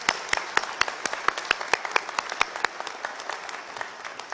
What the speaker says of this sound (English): Let's give our impressive female graduates a round of applause.